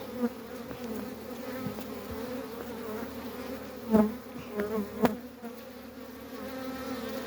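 Honeybees buzzing around a hive during package-colony beekeeping, a continuous close drone with a few louder passes as individual bees fly near.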